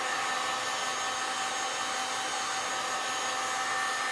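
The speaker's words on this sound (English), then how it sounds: "it's important not to leave the heat gun in one spot too long" A heat gun blows steadily over resin in an ocean beach scene made with Le'Rez Angel White, a loud continuous whooshing airflow with no pauses.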